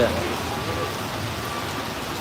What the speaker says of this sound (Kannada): ಫುಲ್ ಧಾರಾಕಾರ ಮಳೆ ಬರಲೇ ಆಗ್ತದ